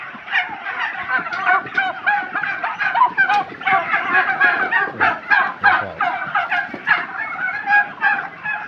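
A flock of turkeys gobbles continuously, overlapping rapid warbling calls that rise and fall, loud and close, with no talking.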